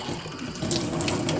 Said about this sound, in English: So whenever I turn the water on,